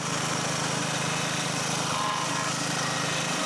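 A portable sawmill engine runs while cutting wooden boards, making a steady, close, continuous droning hum with no pauses.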